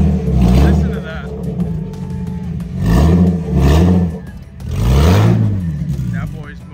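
Modified BMW E30 318 revving hard up close at a night car meet in Miami, three rising-and-falling engine surges with harmonic whine, loud and near, with people talking over it.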